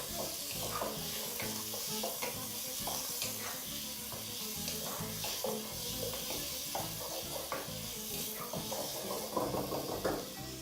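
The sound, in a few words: mutton browning on high heat while being stirred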